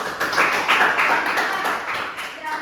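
Students in a microteaching class on design principles clap their hands together in a rhythmic pattern, close and fairly loud, with voices mixed in.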